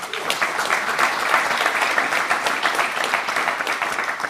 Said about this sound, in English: maybe a round of applause for the facilitators